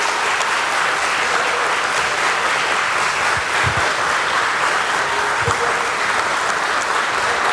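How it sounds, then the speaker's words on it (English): Sustained audience applause at the ceremony relaunching S&P BSE Sensex and Bankex derivatives contracts, dense continuous clapping from a crowd filling the room, loud and even throughout with a few faint voices underneath. "A big round of applause for this momentous occasion."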